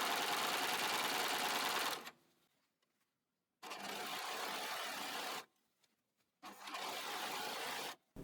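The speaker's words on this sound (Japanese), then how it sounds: "最後にロックミシンで袖ぐりの縫い代を始末していきます。" An overlock serger finishes the armhole seam allowance on a Liberty print blouse, running in three loud, steady bursts of fast whirring stitching separated by short quiet pauses.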